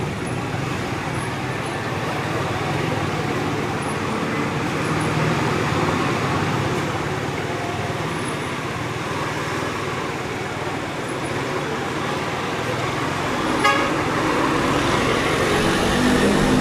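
Large trucks and road traffic rumble past in a continuous, moderately loud wash of engine and tire noise, with a brief sharper clatter near the end.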